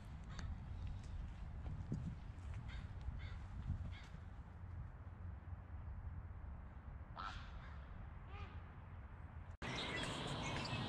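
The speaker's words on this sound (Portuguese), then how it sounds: "Tem um pássaro maior que você ali, pia." A large bird, likely a crow, caws outdoors in Canada: a few harsh calls over steady low background rumble, clearest as two loud caws near the end.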